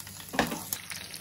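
Dried red chilies and green chilies hitting hot ghee in a pan for rava upma with groundnuts, giving a sudden burst of crackling sizzle that settles into a steady fry, with a second smaller crackle moments later.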